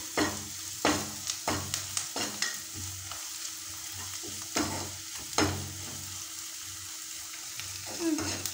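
Onions frying in a pan until reddish-brown, a steady broadband sizzle broken by repeated scraping stirs of a spatula, close and continuous with no talking.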